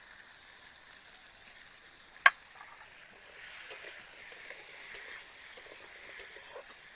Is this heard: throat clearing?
no